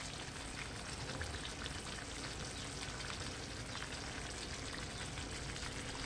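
Stuffed pointed gourd (potol) frying in a pan gives a steady, even sizzle and crackle that continues without a break. It is close but soft, with no voices.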